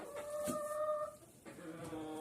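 Hens clucking close by in a coop, a factory-bred layer and an older home hen, with a few drawn-out tonal clucks, alone and fairly quiet.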